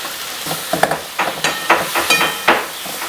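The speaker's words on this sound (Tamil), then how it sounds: "அதுக்கடுத்து இந்த தக்காளி ஒரு 5 தக்காளி, சின்னதாக 5 தக்காளி இருந்தது, அதை வந்து நல்லா நம்ம வதக்கிப்போம்" Five small tomatoes sizzle in hot oil in a pan while a spoon stirs them. Rhythmic scraping strokes rise above the frying, loud and close, with no talking.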